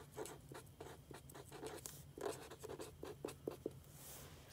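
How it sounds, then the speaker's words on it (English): Fine tip of a Tombow ATB art marker writing on paper, a quiet series of short scratchy strokes in quick, uneven rhythm, close up. "I'm gonna first be opening the fine tip. So this is what it looks like when it's open. And let's go ahead and write with it."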